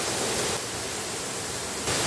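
A small waterfall near a walking trail with stairs and cliffs gives a dense, steady rushing roar, close and even throughout, with no voices.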